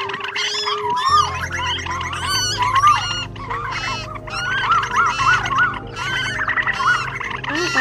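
Asian koel and bulbul calls played as a trapping lure: loud, clear repeated whistled phrases in a steady series over a low constant hum, with no talking.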